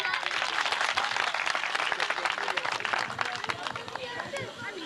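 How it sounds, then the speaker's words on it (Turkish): A village audience at a 2004 village festival applauds, dense steady clapping from a crowd that holds through the whole stretch, with a speaker's voice and crowd murmur mixed in. "Alkışlıyoruz."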